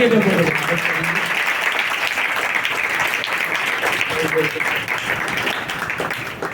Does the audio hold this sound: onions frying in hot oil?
no